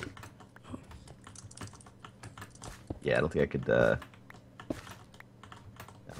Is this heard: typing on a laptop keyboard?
yes